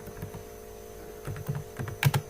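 Keys tapped on a computer keyboard in a few short, quiet bursts over a steady mains hum, with a cluster of sharper clicks toward the end.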